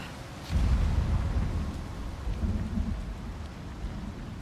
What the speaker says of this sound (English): I'm hiding under a tree in a lightning storm.